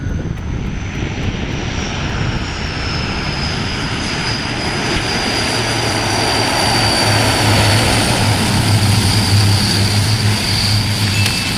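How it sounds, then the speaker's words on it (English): A loud Airbus A320 engine roars steadily close overhead as it lands too low at Skiathos Airport, Greece, a powerful continuous drone with a high whine riding on top. "An Airbus 32 landing at Skiathos Airport in Greece makes a landing that is too low"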